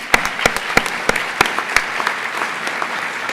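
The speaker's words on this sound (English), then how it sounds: "I'd like to recognize them once again with a round of applause" A live audience applauds the judges at an awards event for a credit union executive contest, with sharp individual claps ringing out over a steady bed of clapping that thins toward the end.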